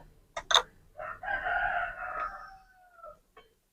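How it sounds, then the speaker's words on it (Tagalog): A rooster crows once, a loud drawn-out call that rises and trails off, preceded by a couple of short clucks. "pagpasensyahan nyo na madaming manok dito sa amin kasi probinsya dito"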